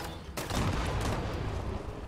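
In Fallout 76, a Two Shot automatic grenade launcher fires as a sudden loud burst of blasts, then a dense rumbling barrage of explosions that stays strong and steady to the end.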